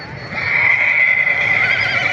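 A horse at a busy livestock fair on Sakhi Sarwar Road near Dera Ghazi Khan lets out a long, loud whinny that wavers toward its end, heard over a constant murmur of crowd noise.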